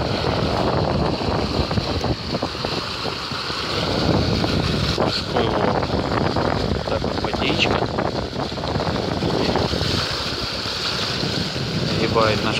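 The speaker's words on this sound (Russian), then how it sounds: "Бежим под мотором." A BC-970 sailing yacht runs under motor on open sea, heard as a continuous rush of wind buffeting the microphone over sloshing water and a low engine drone.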